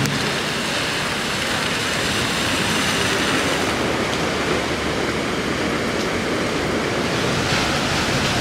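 Large waves break and surge on a stormy Phuket shore, a loud, unbroken roar of surf and wind-driven water with no pauses and no voices.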